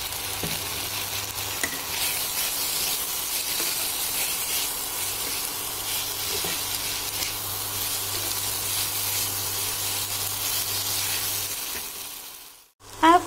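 Ginger garlic paste sizzling in a hot oiled pan for tandoori chicken, a steady bright frying hiss with small crackles and occasional stirring clinks, close and continuous, ending with a brief clatter.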